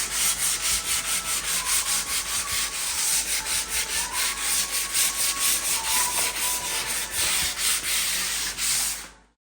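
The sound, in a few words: hand sanding pine wood with 150 grit sandpaper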